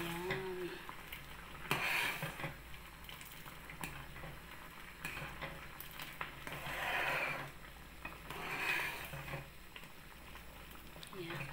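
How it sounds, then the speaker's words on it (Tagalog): A spoon stirs thick chocolate rice porridge in a pot over lowered heat, with soft scraping and bubbling under occasional faint kitchen noise. "Haluin lang natin para hindi dumikit sa"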